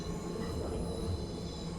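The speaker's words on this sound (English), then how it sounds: "is that Pendolino leaving?" A Pendolino train pulls away in the Train Sim World 5 game, a steady rolling rumble of rail wheels with a faint squeal, moderately loud and unbroken, no voices.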